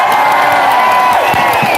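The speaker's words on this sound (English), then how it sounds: "Give her a round of applause." A crowd at a lockdown protest in Trafalgar Square cheers and applauds, a dense, loud, continuous roar of voices with whoops rising over steady clapping throughout.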